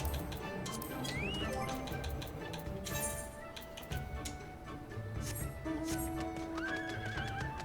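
The Nightmare mount in Final Fantasy XIV whinnies and clops, game sound effects at a steady level with a neigh and rhythmic hoof-like ticks over continuous in-game background audio.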